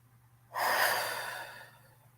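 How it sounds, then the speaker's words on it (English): One long audible breath drawn in through the nose, close and steady, rising quickly and then tapering off over about a second and a half, with no talking. "In through the nose."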